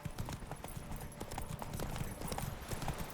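Roach, Geralt's horse in The Witcher 3, gallops in a fast, steady clip-clop of hooves that runs the whole time, fairly soft and not far off.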